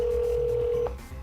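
A phone call being placed to a mother, with a steady sustained tone like a ringback or dial tone running most of the way before it breaks off, leaving quieter low background.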